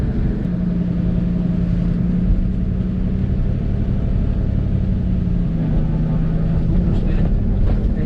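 Engine of a 1979 Dodge D100 step-side barn-find truck pulling off a driveway in first gear, a loud steady low rumble with wind buffeting the mic and no clear change in pace.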